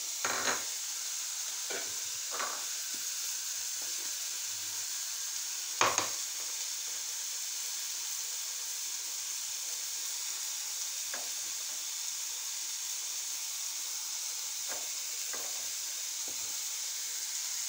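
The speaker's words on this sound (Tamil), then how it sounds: "நல்லா இதை அப்படியே வதக்கணும்." Vegetables for a Sri Lankan brinjal, potato and plantain kootu sauté in a pan with a soft, steady sizzle and hiss, broken now and then by a few faint scraping stirs.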